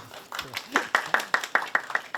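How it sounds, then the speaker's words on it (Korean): Audience members at a Korean lecture on taxes and national finances clap for a speaker in a slow, evenly spaced rhythm of about nine distinct claps, fairly quiet and fairly close. "오늘 이제 이상민 선생님 다시 한번 박수"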